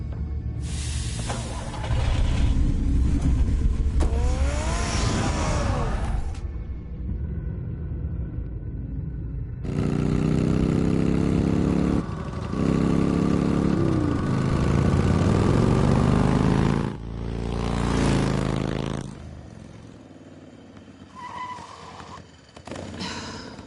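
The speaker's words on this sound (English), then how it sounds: "Get the car ready, Alfred." Batman's car engine in Batman: The Telltale Series rumbles and revs in long bursts with rising pitch. The engine cuts out and starts up again several times, loud and close.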